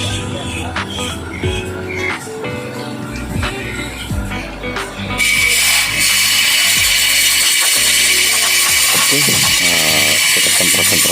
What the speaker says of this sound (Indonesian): Kita semprot-semprot dulu menggunakan angin ya.